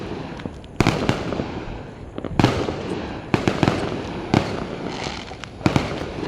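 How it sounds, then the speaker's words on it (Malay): Firecrackers and fireworks going off at night in a residential neighbourhood, a series of sharp bangs and crackling bursts at irregular intervals over a continuous noisy background, moderately distant. "Tengok orang main mercon tu kuat sangat ke."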